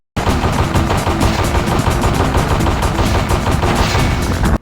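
Rapid automatic gunfire from a multi-barrel gun in the DOS first-person shooter CyClones, a loud, relentless stream of shots with no break for nearly five seconds.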